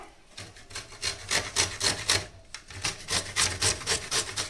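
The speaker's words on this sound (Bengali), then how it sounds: "এখন আমি এটা দিয়ে এরকম করে ঘষে নেবো দেখো" Peeled mango being grated by hand, a rhythmic series of close scraping rasps, roughly a dozen strokes in quick even succession with a brief pause midway, with no talking.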